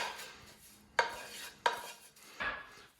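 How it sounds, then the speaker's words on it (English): Spices are stirred into mutton curry in a pan: three sharp metallic scrapes and clinks of a spoon on the pan, spaced about a second apart, over a faint soft sizzle, close and fairly quiet. "then we're just going to mix that through nice and simply"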